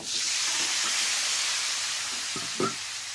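A masala with turmeric powder sautés in a pan for a cauliflower and fish dish, a loud, even hissing sizzle with a few brief stirring clinks near the end.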